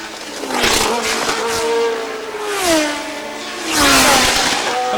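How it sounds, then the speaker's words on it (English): Formula 1 race cars at Dijon in 1977 scream past one after another, their engines rising and falling in pitch as they sweep by, loud and close with a whining, revving tone. "Mario Andretti driving straight past Fittipaldi, and now closing on Ian Scheckter"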